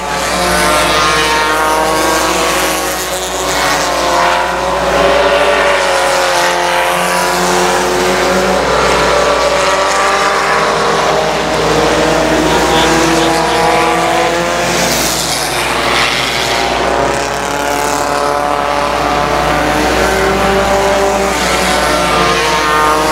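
Race trucks battle on the oval at I-37 Speedway, a loud, continuous roar of engines rising and falling as several trucks pass close by, with no talk in between.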